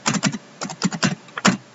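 Someone types on a computer keyboard, close by, in a quick rhythm of about a dozen clicky keystrokes in small bursts, with short gaps between them.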